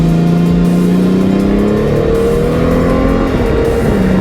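A 2022 Honda Gold Wing 1800 DCT motorcycle accelerates, its engine droning loud and steady with rising tones as it gathers speed, heavy wind rush over it throughout.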